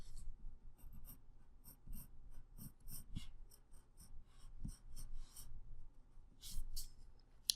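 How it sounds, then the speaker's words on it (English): A dark pencil scratches out a mountain outline on paper, a series of short quiet strokes and rasps in an irregular rhythm, close and alone. "So first, I just want to draw out the outline of my mountain."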